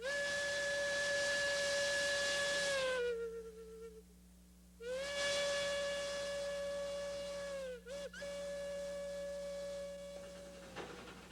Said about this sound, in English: when you hear that little whistle and that ch-ch-ch-ch as the trains are backing down the mountain